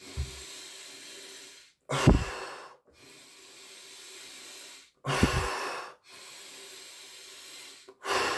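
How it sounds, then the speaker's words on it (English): Deep, heavy human breaths, three long loud inhales with hissing exhales between, close and rhythmic with short pauses. "Big breaths now."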